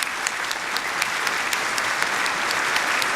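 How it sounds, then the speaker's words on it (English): Audience applause at an awards ceremony honoring community members, a steady wash of clapping hands that holds through the whole stretch with sharp individual claps standing out, without any talk over it. "So let's give a round of applause"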